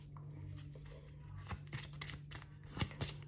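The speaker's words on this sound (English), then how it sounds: "Shuffling the cards." Tarot cards are shuffled up close in a quiet room, with soft riffling and a series of crisp slaps and taps.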